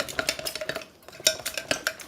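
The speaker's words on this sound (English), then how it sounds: "I'm going to add them one at a time and stir real quick because my cheese is hot and I don't want my eggs to scramble" A spoon stirs eggs into hot melted cheese in a pan, giving quick rhythmic scraping and clinking strokes close up, with a short pause midway and no talking.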